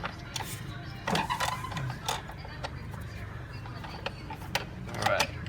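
A ratchet fitted with a 10 mm socket works loose the coil pack bolts on a 2008-2010 Nissan Sentra 2.0 L, giving quiet, irregular clicks and light metallic ticks close by against a low background hum.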